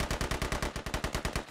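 Rapid automatic gunfire in the military shooter game Squad, a steady burst of about a dozen evenly spaced sharp shots, close and loud with no talk over it.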